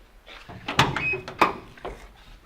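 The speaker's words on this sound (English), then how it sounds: "why don't you pop that door" The door of a 1967 International shortbed pickup truck is opened close by, with a few sharp metallic clunks and latch clicks.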